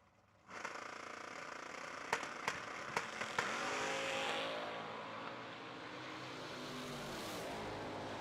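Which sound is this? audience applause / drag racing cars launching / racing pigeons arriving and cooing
drag racing cars launching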